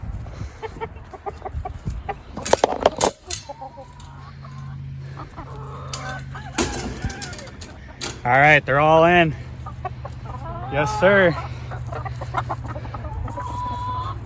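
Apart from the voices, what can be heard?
chickens and rooster clucking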